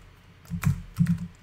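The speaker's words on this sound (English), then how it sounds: "I'll save you having me watch me type" A few quick, soft taps on a computer keyboard, two small clusters of keystrokes close by in a quiet room.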